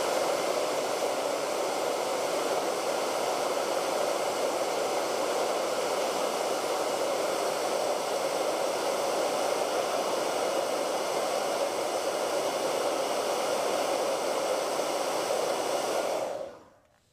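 A hair dryer blows steadily on craft snow, a loud, close, even whoosh running unbroken for over sixteen seconds before cutting off abruptly at the end.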